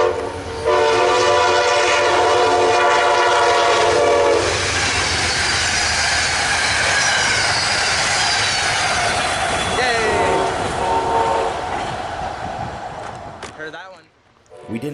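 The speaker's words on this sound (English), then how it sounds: "Our first train on the Keystone corridor was the westbound Pennsylvanian, train number 42" The westbound Amtrak Pennsylvanian passenger train, number 42, rushes past on the Keystone corridor near Lancaster with a loud horn blast up front, then a sustained roar and rail clatter that fades as it recedes.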